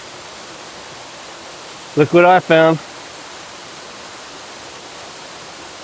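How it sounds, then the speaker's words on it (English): A jungle waterfall in Bali roars as a steady, broadband rush of falling water, constant and fairly close, with someone speaking briefly over it partway through. "Is it the world's biggest waterfall?"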